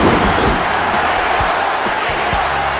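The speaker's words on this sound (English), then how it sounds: "There's capacity crowd bringing in the chant Weasel." A capacity crowd in a WWF wrestling arena roars and chants loudly and continuously, with rhythmic thuds and slams from the ring punctuating the dense crowd noise.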